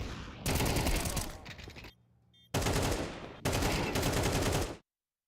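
Rapid automatic gunfire bursts in Counter-Strike during an esports tournament match, loud sustained volleys broken by a brief pause, then more firing before cutting off.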